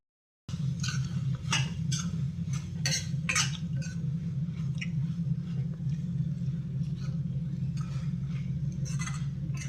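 Boti pepper fry mixed in a pan, with repeated metallic clinks and scrapes of a spoon against the pan over a steady low kitchen hum, close and moderately loud.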